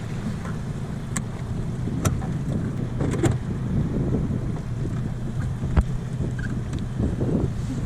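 A motorboat with landing wheels lowered and its outboard motor tilted halfway up comes ashore through surf onto a beach at Bahia Santa Maria, Mexico; a steady low engine rumble mixes with wind buffeting and scattered knocks.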